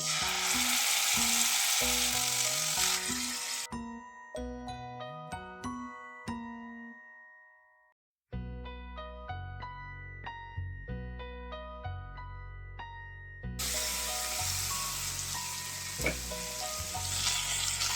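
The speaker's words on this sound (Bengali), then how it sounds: "তেলটা খুব ভালোভাবে গরম হয়ে গেছে। এবার মাছগুলো আমি দিয়ে দিচ্ছি।" Masala-coated fish frying in hot oil on a low flame gives a loud, dense sizzle at the start and again at the end, with a melodic, chime-like music passage between the two.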